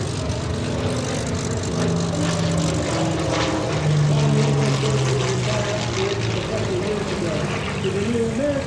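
A P-40 Warhawk propeller fighter flies at the Westmoreland County airshow, its piston engine droning steadily with a shifting pitch, somewhat distant and continuous under a public-address announcer's voice.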